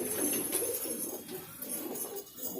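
Highflyer pigeons coo softly in a loft, a steady low murmur of several birds with a faint clink now and then, close and continuous.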